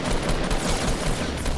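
Rapid gunfire from the video game Fortnite, a dense continuous burst of shots holding steady at fairly loud level with no talk over it.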